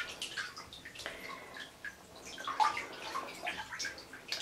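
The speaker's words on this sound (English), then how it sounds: "I'm taking a bath." Water sloshing and dripping in a bathtub while someone bathes, soft close splashes and trickles with small gurgles, fairly quiet and continuous.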